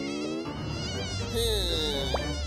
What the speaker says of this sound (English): Watch out, mosquito!